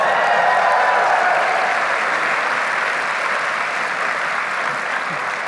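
Large audience at a puzzle hunt kickoff event bursts into loud, dense applause that stays steady for several seconds with little variation.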